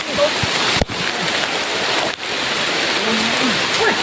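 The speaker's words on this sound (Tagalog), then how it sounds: "Ulan na to." Rain falls steadily outdoors as a dense, even hiss of drops on surfaces, with a brief low thump and faint background voices underneath.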